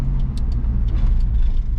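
A Ford F150 pickup truck drives along with a continuous low engine and road rumble, steady and close, with faint ticks and knocks over the top.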